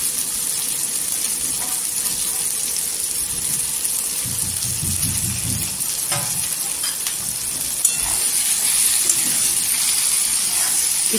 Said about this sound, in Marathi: इथे तेलावर परतून घ्यायची भेंडी.